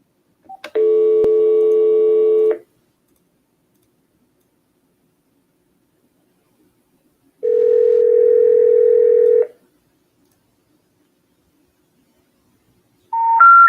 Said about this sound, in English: Give it a few minutes, make a couple more calls, we reach back out to Jordan.